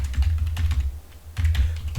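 Rapid keystrokes on a computer keyboard while a command is entered, in two quick bursts separated by a brief pause, close and clear with no voices.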